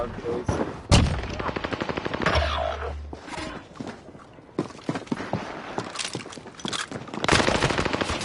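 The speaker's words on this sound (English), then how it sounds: "I'm under fire!" Dense, rapid gunfire rattles through a Call of Duty Warzone match, with bursts of automatic shots close by and overlapping, while a voice talks intermittently over the action.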